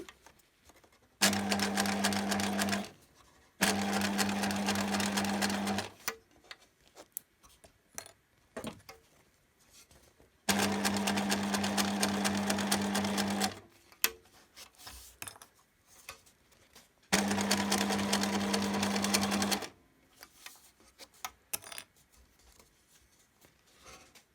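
A sewing machine stitches a line near the edge of a vinyl pouch in three steady, loud bursts of rapid mechanical whirring, separated by quieter pauses with light handling noises.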